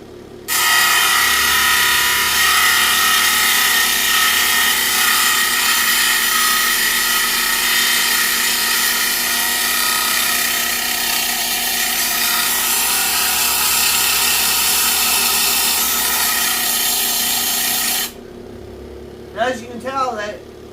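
Loud, continuous power-sander grinding against stone with 80-grit abrasive for most of the stretch, then cutting off abruptly, followed by a brief voice.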